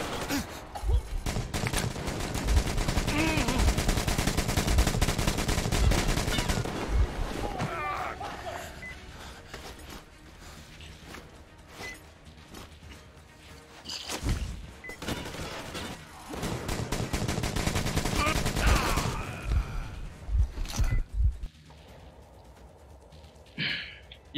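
Gunfire in the shooter game Metro Exodus comes as dense, loud volleys and scattered shots, with a voice reacting between the bursts.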